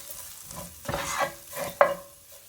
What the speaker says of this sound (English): I'm just going to go ahead and stir it in here just to cook off that flour pasty taste